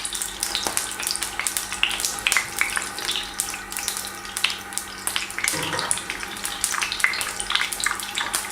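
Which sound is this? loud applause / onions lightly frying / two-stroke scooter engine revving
onions lightly frying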